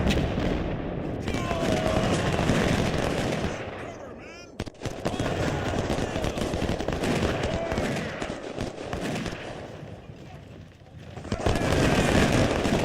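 Artillery and musket fire from a Civil War battle in the Ultimate General Civil War video game: a dense, continuous roar of rapid gunfire and booming cannon, loud throughout, with a brief lull near the end before it swells again.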